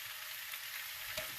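Cold sourdough pasta deep frying in hot oil, a steady dense sizzle and bubbling throughout, close and even, with a brief louder stir-like burst near the end.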